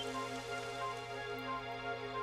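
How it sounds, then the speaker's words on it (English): Steady rain falls in Dragon Quest XI, a continuous even hiss mixed with a droning game soundtrack, with no pauses and no voices. "It would have to go and start raining, wouldn't it?"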